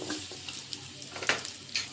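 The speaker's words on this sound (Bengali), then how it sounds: "পেঁয়াজটা হালকা ভেজে নিয়েছি" Chopped onions with a couple of green chilies frying in oil in a wok, a steady soft sizzle broken by a few scraping stirs, close and moderately quiet with no talking.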